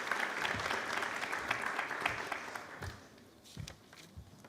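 Audience applause at a technology conference panel in Málaga, a steady wash of clapping from a seated crowd that thins toward the end, with a few louder individual claps standing out.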